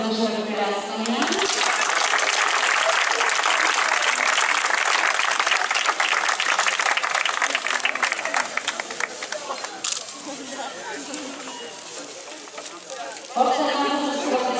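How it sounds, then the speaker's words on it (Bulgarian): A crowd applauds steadily at an ultra-race award ceremony, with loud sustained clapping that fades toward the end before a voice speaks over the sound system. "Още веднъж ръкопляскания."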